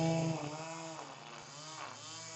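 A weed whacker drones through a Jabra Evolve2 85 headset microphone, heard as a steady, muffled engine hum with a wavering pitch that sits at a moderate, constant level.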